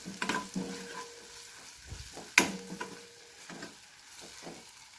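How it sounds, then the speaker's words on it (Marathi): Grated coconut sautéing in a dark-roasted spice masala, with soft sizzling and repeated scraping stirs of a spoon in the pan, one sharper clack near the middle, no voices. "खोबरंसुद्धा व्यवस्थित परतून घ्यायचं"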